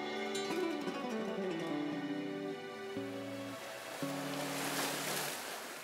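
Ocean surf on a Costa Brava beach north of Barcelona, a soft wash of waves rising toward the end, distant and faint beneath steady background music.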